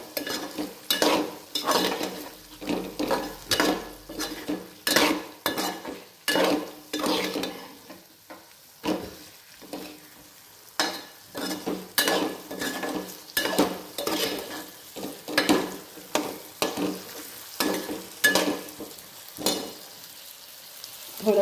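Capsicum sautéing in a pan with spices, stirred repeatedly: steady frying sizzle broken by scraping strokes of a spoon against the pan, close up, with a short quieter pause midway.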